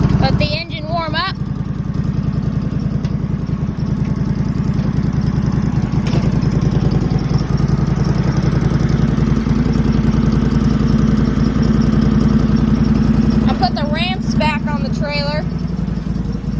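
A lawnmower engine idles steadily while warming up, a loud, continuous close-up chug with faint clatter throughout; brief voices are heard at the start and again near the end.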